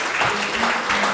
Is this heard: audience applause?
yes